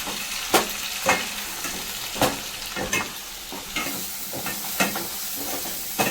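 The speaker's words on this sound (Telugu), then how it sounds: "ఉల్లిపాయ అనేది ఇందులో వేస్తున్నాను. బాగా పచ్చివాసన పోయేంత వరకు బాగా వేగనివ్వాలి ఇందులో." Onion fries in hot oil in a pan, a continuous close sizzle punctuated by regular sharp scrapes of a spatula stirring every second or so.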